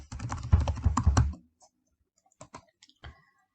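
Computer keyboard typing while writing Java code: a dense burst of close key clicks, then a pause, then a few scattered single keystrokes.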